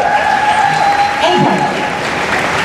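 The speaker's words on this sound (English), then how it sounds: "Yeah, you can applaud that." Audience applause at a fan convention theater panel, a steady wash of clapping with a voice talking over it throughout.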